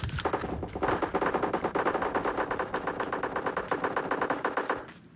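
Rapid automatic gunfire in the mobile game PUBG Mobile: dense bursts of close, loud shots rattling almost continuously for about five seconds before stopping.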